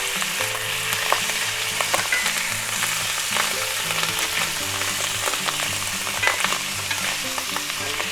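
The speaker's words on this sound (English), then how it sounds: "Give it a stir." Minced garlic sizzles steadily in a hot frying pan while a utensil stirs it, a continuous close frying hiss broken by soft scraping strokes against the pan.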